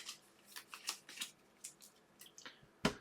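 A deck of Terraforming Mars cards is shuffled by hand at a table, a series of quiet, crisp riffling and sliding bursts at irregular intervals, close and soft, with a sharper snap at the end.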